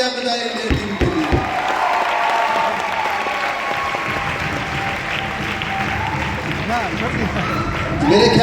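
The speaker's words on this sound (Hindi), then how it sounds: "उसके लिए एक बार जोरदार तालियां बजाएंगे टीम के लिए" A crowd at a company anniversary celebration applauds loudly for the cricket team's championship win, sustained clapping for several seconds with some cheering, close and full.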